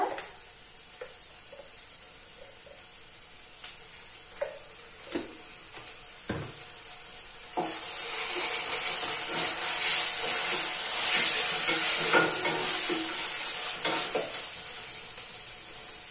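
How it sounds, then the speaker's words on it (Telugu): Onion frying in a pan, a soft sizzle with scattered utensil taps at first that swells into a louder, hissing fry for the second half, steady and close with no voices. "అలాగే మనకి ఇక్కడ ఆనియన్ కూడా ఫ్రై అవుతుంది కదా"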